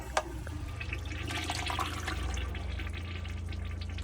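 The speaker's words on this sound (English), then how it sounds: "So that quite literally just fills it with water." A Jabsco marine toilet aboard a Concorde Carver boat fills with water, a steady close rushing and trickling flow after a brief click at the start.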